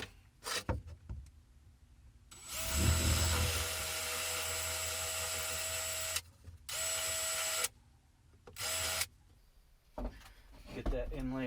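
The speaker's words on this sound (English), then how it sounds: "just want to pre-drill" A power drill pre-drills screw holes into ceiling supports inside a Ford E350 van conversion, with several high whining bursts of differing length separated by quieter gaps and occasional handling clatter.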